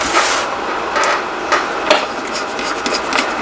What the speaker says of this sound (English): So we have the 3 original screws. We'll go ahead and put these back in